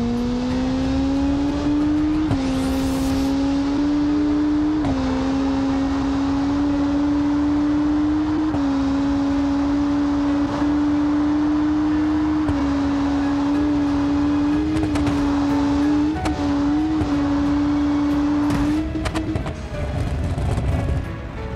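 In a video game, a Maybach luxury car engine revs at a bridge jump. It holds a loud, sustained droning note that steps slightly up in pitch in stages, and the sound breaks off near the end with no talking.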